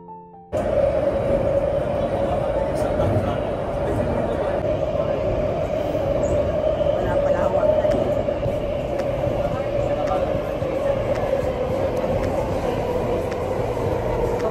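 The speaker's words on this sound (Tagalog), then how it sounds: "Ayan ang ating train. Papasok." A Singapore MRT train pulls into the station with a loud, steady rumble and a sustained whine that holds for several seconds, and people talk over it.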